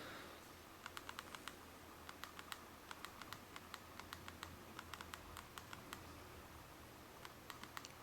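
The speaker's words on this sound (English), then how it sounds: "So we'll type my simple message" Quick taps on a BlackBerry Storm 2 touchscreen keypad as a short message is entered, a steady run of faint, crisp clicks in small bursts with brief pauses, close to the device over a quiet low hum, with no talking.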